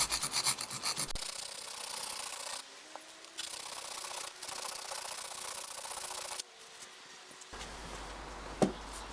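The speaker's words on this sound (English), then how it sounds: "Put some oil on the stone and hold the chip breaker against it like this" A plane's chip breaker is ground against an oiled sharpening stone, producing a continuous close scraping rasp in repeated long strokes with brief pauses between them.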